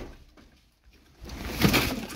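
Tumbler pigeons: a quiet, nearly empty opening gives way to a brief, louder burst of bird sound, with a soft coo-like note near the end.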